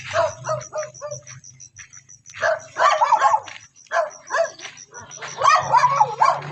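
Pet dogs bark and yip in repeated bursts close by, with short pauses between volleys and brief whimpers, while people talk at the same time.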